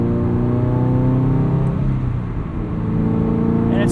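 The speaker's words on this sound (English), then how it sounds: "the more you push your foot down, the more the car accelerates." A Subaru BRZ with a catted header and tune accelerates under load, its engine holding a steady, throaty drone of stacked harmonics that dips briefly mid-run before building again, loud and close from inside the car.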